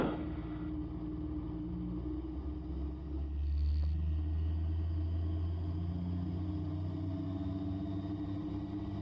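Raptor prototype aircraft taxiing on a runway, a steady low engine drone and rumble held close and even throughout, with a brief rise in level near the middle.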